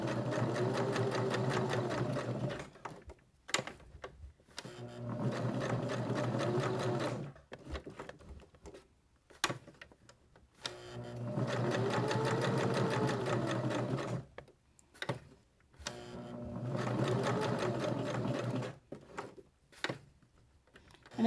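A sewing machine stitches a second lap around a fabric heart, running in four long steady bursts separated by short pauses and brief handling clicks, close and clear with no talking.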